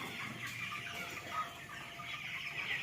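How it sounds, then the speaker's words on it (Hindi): Chickens clucking steadily inside a village poultry shed, a dense continuous chorus of many birds at moderate level with no talk over it. "देखिए कितना सारा मुर्गी है यहाँ पे।"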